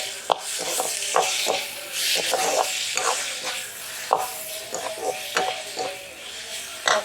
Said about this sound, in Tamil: வெங்காயம் ஓரளவு வதங்கி வந்துட்டு என்ன பண்ணுறோம்னா தக்காளியை போட்டு